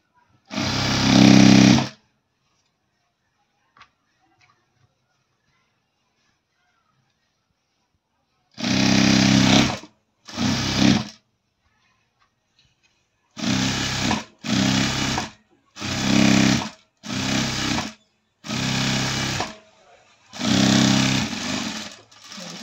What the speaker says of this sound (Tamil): தையல் போட்டுக்கலாங்க.